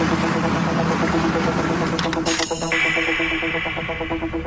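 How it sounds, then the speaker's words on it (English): A Humvee's engine runs steadily as the vehicle drives through an open area, a loud continuous low rumble with a brief metallic clatter partway through and no voices. "with all that engine noise"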